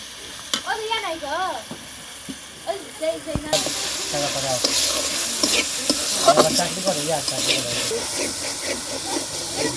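Green peas and carrots frying in hot oil in a pan for a rice dish, a loud bright sizzle swelling after they drop in, with stirring clatter and hissing steam close by and brief talk at the start.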